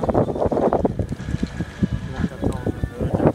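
Wind gusting over a sailboat at sea, buffeting the microphone with rough low rumble while a voice speaks over it.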